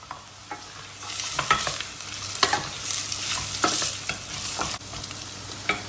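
Onion and potato sautéing for soup, a bright close sizzle in the pot with repeated scraping stir strokes at an uneven rhythm, no talking.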